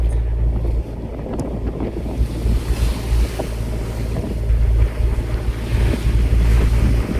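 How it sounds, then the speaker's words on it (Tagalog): Strong wind and large waves buffet a boat moving slowly at about 40 kph, with a continuous loud roar of wind noise, heavy low rumble and surging water throughout. "Malakas yung hangin at ang lalaki po ng mga alon."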